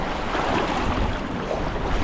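Water rushes loudly and continuously nearby into a small pond, a dense steady roar with some wind noise mixed in and no voices.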